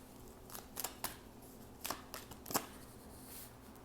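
Tarot cards are shuffled and drawn, making a handful of crisp papery slaps and flicks in short bursts over a quiet background, close and fairly soft, with no talking.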